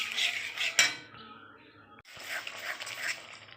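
Spoon stirring fish curry masala with yogurt in a pan over low gas, giving close scraping and clinking metal sounds in quick bursts, then a short lull before steady stirring resumes.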